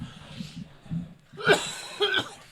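A person coughs twice in quick succession, close by, after a moment of low murmuring.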